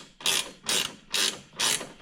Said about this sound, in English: Now we're going to take the stock horn off using the 12mm wrench.